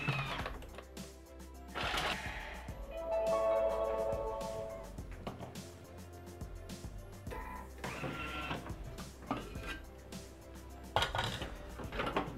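Thermomix food processor chopping rosemary and mint at speed 7, heard as a rattling, clattering whir with irregular knocks that keeps going for over ten seconds at moderate level, with no talk.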